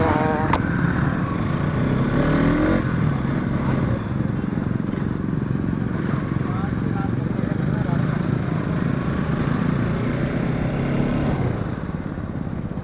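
A group of motorcycles, including a Bajaj Pulsar NS 200, idling and revving on a Sunday group ride, a steady engine drone with people talking over it.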